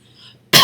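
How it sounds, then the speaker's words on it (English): A single loud, abrupt human cough bursts in after a near-silent moment, close to the microphone and alone. "It's gonna be taped with me coughing."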